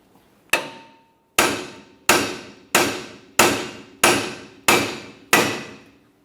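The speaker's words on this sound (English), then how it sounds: "we'll tap on this to break it free, so we can eventually pull it out and rearward" A hammer strikes a front suspension part on a 2004-2008 Ford F-150 to break it loose, eight sharp metallic blows at an even pace, each ringing briefly before the next, close and loud.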